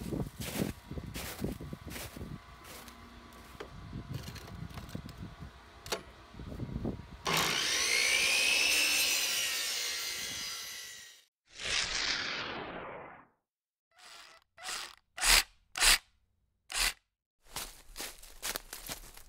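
Pieces of driftwood are cut at a 45-degree miter angle, with scattered knocks and handling clatter leading into a loud, sustained saw run, a shorter second cut, then a series of sharp taps.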